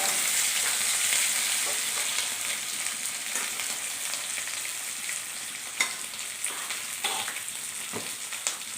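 Potatoes sizzle in hot oil for a Bengali fish curry (macher jhol), a close, steady crackling hiss with occasional sharper pops and stirring clicks, no voices.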